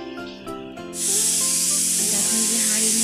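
A pressure cooker on a gas stove suddenly lets off steam, bursting into a loud, continuous hiss that holds steady until the end after a quieter opening.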